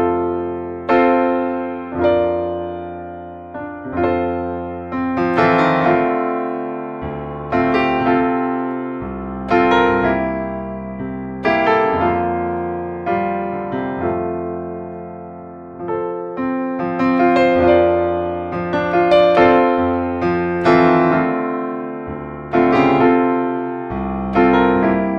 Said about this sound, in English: It's based on the Petrof 275 classical piano.